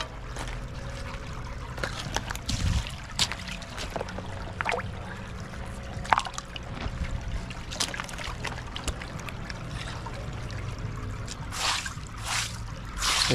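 Water pours and trickles while a creek bed is dug out by hand, with scattered splashes and scooping sounds over a steady outdoor hiss, moderately close, no voices.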